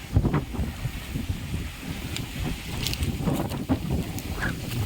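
Strong wind gusting outdoors and buffeting the microphone, a rough low rumble that rises and falls continuously for the whole stretch, with no talking.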